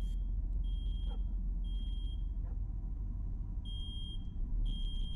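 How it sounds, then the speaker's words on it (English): Fire alarm going off in a horror video game: repeated high electronic beeping in short clusters over a constant low rumble of background noise, with no talking. "Fire alarm's going off?"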